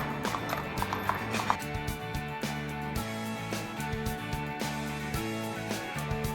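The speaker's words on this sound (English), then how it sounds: "the city centre, where all the horse carriages, also known as fiacres, gather to escort tourists around town." Horse-drawn carriages (fiacres) in Vienna's city centre, hooves clip-clopping steadily on pavement in an even, overlapping rhythm, moderately close amid street ambience.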